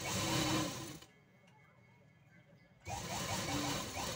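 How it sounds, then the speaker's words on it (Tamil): A sewing machine stitches a border onto saree fabric, running loud and steady for about a second, pausing, then starting up again in a continuous mechanical whir. "இப்போ இதுக்கு மேலே இன்னொரு பார்டரையும் வச்சு ஸ்டிச் பண்ணி எடுத்துக்கலாம்"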